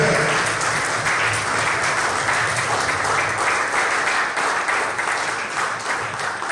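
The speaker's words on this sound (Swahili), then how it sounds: "Kwa pamoja, makofi wote tafadhali" Audience applause at an event, dense and loud steady clapping from a large crowd sustained for several seconds without pause.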